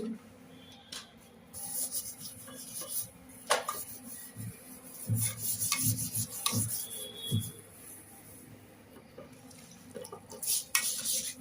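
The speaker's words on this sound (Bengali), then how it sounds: "বেসিনগুলো সাফ দুইটা বেসিন সাফা করি" A wash basin gets scrubbed by hand, intermittent rubbing and scraping strokes in short bursts with quiet gaps between them, close and fairly soft.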